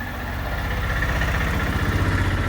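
A boat engine on a passenger ferry runs steadily at idle, a loud, continuous low rumble with an even pulsing throb that never lets up.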